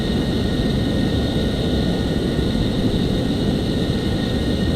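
Simulated F-14 jet with automatic wing sweep in the FSX flight simulator game, flying slowly near an airstrip: a steady, loud, unbroken engine roar and hiss with a faint high whine throughout.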